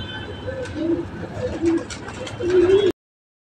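Pigeons coo at a pigeon flying tournament in Secunderabad, soft rolling calls repeating several times over low background noise and faint murmurs, ending abruptly.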